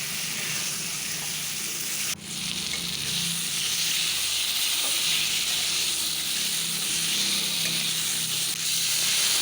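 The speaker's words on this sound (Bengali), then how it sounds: "আলুটা ভেজে নিচ্ছি" Potato pieces fry with turmeric and salt in a pan, making a loud, unbroken sizzle with stirring scrapes and a brief utensil knock early on.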